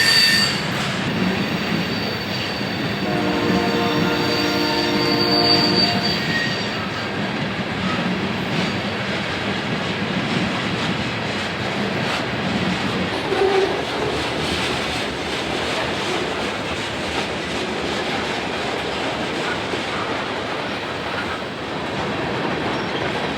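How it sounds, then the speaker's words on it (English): A unit ethanol freight train rolls past at a rail junction, a long steady rumble of railcars with rhythmic wheel clatter and intermittent high squealing from the wheels. "this unit ethanol train came off of the Iowa Interstate early yesterday morning and is now bound for Baltimore"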